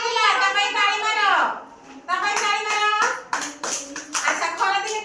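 Children clap their hands together in bursts during a classroom activity, the claps sharp and scattered, with a teacher speaking loudly over them throughout.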